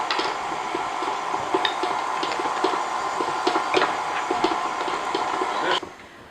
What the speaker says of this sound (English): So while my butter is mixing with flour and sugar